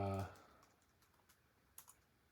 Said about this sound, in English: I'm typing in the search right now under entities